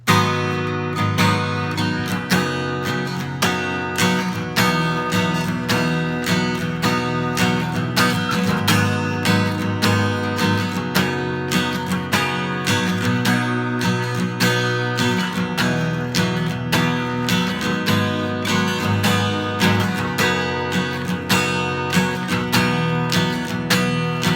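Strummed guitar chords played in a steady, even rhythm, continuous and fairly loud, with no voices over the playing.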